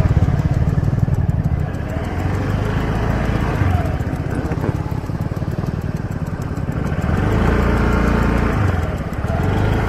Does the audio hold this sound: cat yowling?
no